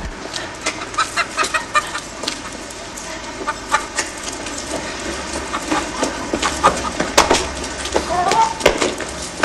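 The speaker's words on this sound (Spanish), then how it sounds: "pues yo tengo gallinas" Hens cluck repeatedly in short bursts, close by and fairly loud, with a few sharper squawks over a busy farmyard background.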